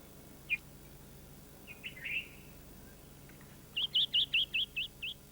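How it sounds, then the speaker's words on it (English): Bright yellow-vented bulbul calls in Yemen: a few scattered single notes, then a quick rhythmic series of six or seven sharp chirps, fairly close in an otherwise quiet setting. "the ubiquitous yellow-vented bulbul feeding on rose hips"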